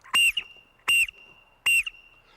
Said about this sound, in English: The international sign for I'm lost is to blow on a whistle 3 times.